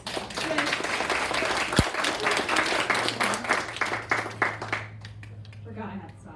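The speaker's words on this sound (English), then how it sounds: "let's give Jack another round of applause" An audience at a summer recital applauds steadily for several seconds while a voice keeps talking over it, then the clapping thins out and stops.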